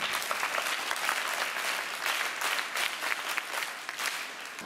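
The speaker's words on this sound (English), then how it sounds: "Let's give him a mighty hand clap." A room of children at a school Christmas party claps steadily for several seconds, a dense, even patter of many hands with no talking.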